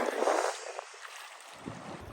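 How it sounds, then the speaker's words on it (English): Strong wind gusts buffet the microphone while waves lap against a canoe pulled up beside an island on Big Island Lake, loud at first and then easing to a rougher, choppier wash. "I'm still just waiting out this wind"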